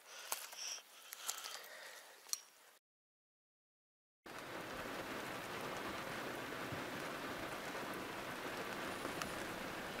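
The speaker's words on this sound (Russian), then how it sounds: "А под утро начался дождь" Rain falls steadily through the night as a dense, even hiss, starting after a short silence and holding unbroken to the end; a few faint clicks and rustles come before the gap.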